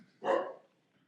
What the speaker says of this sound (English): my dog is barking at something there